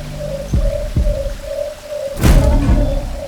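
In a forest, a nocturnal bird gives a repeated low hooting call, about six even coos in a steady rhythm, with soft thumps and a brief burst of rustling noise partway through.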